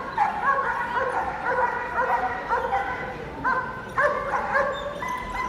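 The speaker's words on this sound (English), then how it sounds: "the dog will be taught to bark at him" A police dog barks repeatedly in short yipping bursts during a Crufts demonstration by West Midlands Police, loud and close with steady rhythm, while a voice talks over it.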